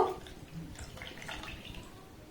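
Water splashes and trickles into a blender jar as it is rinsed, a soft, faint, steady pour lasting a couple of seconds.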